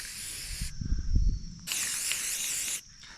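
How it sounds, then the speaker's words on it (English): An aerosol spray paint can hisses onto an old 1970s Jon boat in two long bursts, close and bright with a sharp onset and cutoff, and a short clatter of handling between them. "Nothing that some spray paint can't fix on an old John boat from like"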